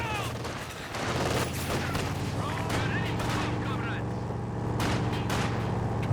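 Anti-tank grenade blasts and battle gunfire from Company of Heroes 2, dense and loud with rumbling booms and crackling shots over a continuous low engine drone, and a voice talking over it.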